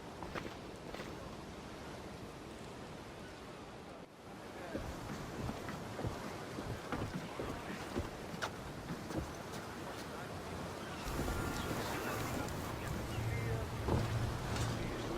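A sailing ship at sea in Assassin's Creed Odyssey: steady wind and wash of waves around the hull, with creaks and splashes, swelling louder toward the end, while game voices speak over it.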